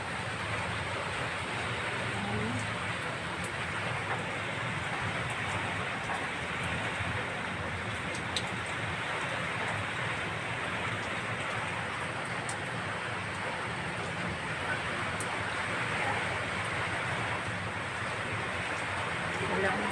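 Rain and wind sweep through trees as a steady, dense hiss that holds evenly for about twenty seconds without a break.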